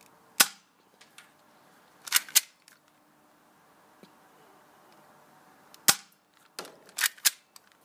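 A spring-powered BB gun with a cocking lever fires in short sharp snaps, a few singles and quick pairs, close and clear with brief clicks of handling between shots.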